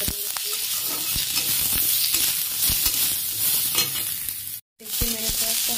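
Onions frying in a pan for tomato chutney make a loud, close sizzle punctuated by repeated stirring scrapes and clicks, with a brief cut to silence near the end.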